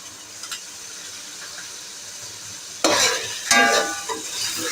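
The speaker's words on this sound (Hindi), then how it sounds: "तमाम मसालों को हम अच्छी तरह से भून लेंगे, टमाटर गल जाएं इतना हमें भूनना है।" Spices, tomatoes and whisked yogurt fry with biryani masala for chicken biryani, a soft sizzle at first, then two loud, close bursts of spoon scraping and stirring through the hissing masala, no voices.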